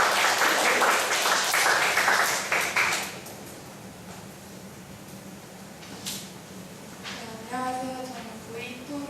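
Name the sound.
applause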